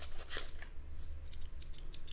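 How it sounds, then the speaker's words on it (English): The scissors on a Roxon KS2E Elite pocket multi-tool snip through an index card, giving several crisp, close cuts in a quick irregular sequence with no talk. "those are probably the best multi-tool scissors I've ever used"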